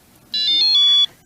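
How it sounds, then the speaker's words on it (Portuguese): A single short electronic beep from a phone, a bright tonal chirp under a second long, clear and close. "O bip do meu telefone."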